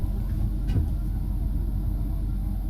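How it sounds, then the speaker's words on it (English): A bathroom exhaust fan runs in a primary bathroom under renovation, giving a steady, close broadband whoosh and low hum that holds even throughout, with one brief knock early on. "this exhaust fan should go"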